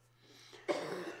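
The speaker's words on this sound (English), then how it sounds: "Man, I think that cough is catching here." A single close cough bursts out after a soft throat-clearing rasp during a live prayer broadcast, short and sharp against a quiet background.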